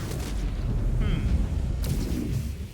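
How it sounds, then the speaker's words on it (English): Heavy Gauss rifle shot in MechWarrior 5: Clans, a deep booming blast within dense rumbling battle noise, loud and close, with a sharp crack near the end. "Did that Gauss rifle just go straight through it?"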